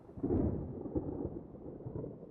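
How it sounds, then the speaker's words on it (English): Distant thunder from an approaching storm gives a low, soft rolling rumble that swells early and then fades into a quieter murmur. "there's a storm rolling in here in about 10 minutes"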